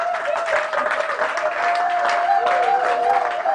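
A church congregation at Mahanaim Church in Brussels claps and applauds in praise of God during a worship service. The clapping is dense and sustained, with a held vocal or musical tone running through it.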